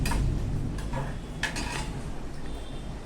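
Crushed almonds and charoli nuts sautéed in a pan for semolina kheer, heard as close scraping, stirring and light metallic clinks of a spoon against the pan over a low background hum.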